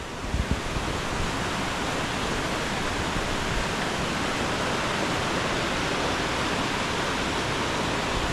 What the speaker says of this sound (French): Toutes les cascades sont en crue.